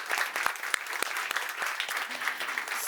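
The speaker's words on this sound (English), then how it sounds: "Big round of applause." Audience applause at the close of a panel discussion on feminist tech and algorithms, a dense, steady patter of many hands clapping at moderate distance, brief and continuous.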